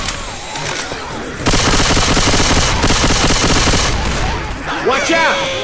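Loud, sustained automatic gunfire from the zombie shooter Left 4 Dead 2 erupts after a quieter opening. Rapid shots rattle on for several seconds, and voices are heard briefly toward the end.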